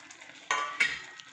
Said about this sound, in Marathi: आता व्यवस्थित त्याला मिक्स करून घ्यायचं